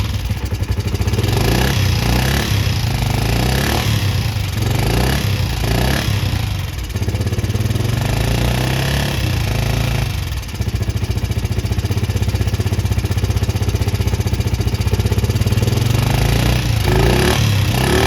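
An old engine, revived after sitting eight years with no compression and a repaired internal part, runs loud and close in a steady clattering rhythm, with a couple of brief dips in its beat.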